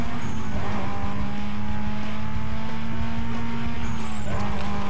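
Race cars roar and ram each other in Need for Speed Most Wanted, a loud continuous engine drone with tire squeals and skidding, alone without talk.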